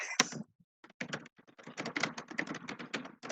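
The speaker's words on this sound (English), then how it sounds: "somebody's typing furiously." Rapid, furious typing on a computer keyboard during a remote planning commission meeting, dense clusters of clicks and key thunks running almost continuously after a brief sharp knock at the start, close and fairly loud with no talk.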